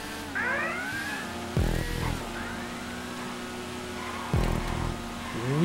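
Shotaro motorcycle racing in GTA 5 Online, a steady engine whine with pitch sweeping up and down through gear changes, broken by two loud low thuds, with a siren-like wail rising and falling in the background.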